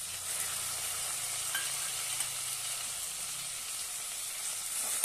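Finely chopped tomato sautéing in a pan for black chana pulav, a steady, bright sizzle with light stirring scrapes throughout and a small knock near the end, no voices.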